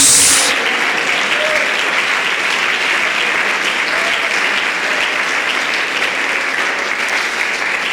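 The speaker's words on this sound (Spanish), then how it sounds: "aplauda la gloria de Jesús" A church congregation applauds during a Sunday school service, with sustained, even clapping from many hands that holds steady for several seconds.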